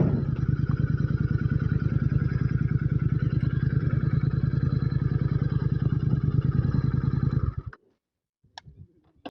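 A Royal Enfield GT 650 motorcycle fitted with a Red Rooster aftermarket exhaust idles loud and close with a deep, steady rapid thump for about seven and a half seconds, then cuts off into near silence with a few faint clicks.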